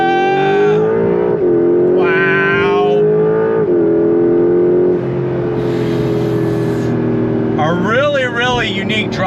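A Porsche 911 Carrera GTS with PDK gearbox revs hard under full throttle, its loud engine note climbing through quick upshifts with rising, falling pitch sweeps, near and continuous, with a brief voice at the end.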